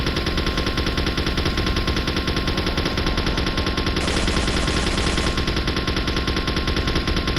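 Relentless heavy gunfire from battleship turrets in the Resident Evil 4 video game, a dense continuous barrage of rapid booming shots filling the whole stretch, loud and unbroken.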